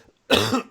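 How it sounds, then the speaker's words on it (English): A single sharp, close cough from a man who is sick, followed by the start of a second cough. "Excuse me, I've still got this fucking cough."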